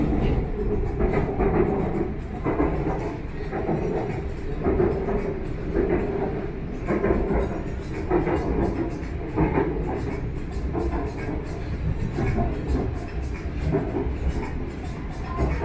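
Bangkok Skytrain running on an elevated track on a weekday afternoon, heard from inside: a steady, loud rumble with faint rhythmic clacking that continues throughout, with no talking.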